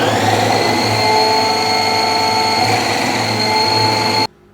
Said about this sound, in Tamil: இப்போ கோஸை உள்ளே போட்டு மிக்ஸியை ஆன் பண்ணிக்கோங்க.